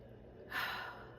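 A single deep breath drawn in through the mouth, close and fairly soft, swelling for about half a second before fading, with no talking over it.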